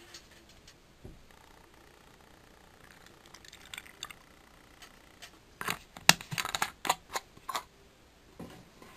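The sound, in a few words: adding hydrogen peroxide into spray bottle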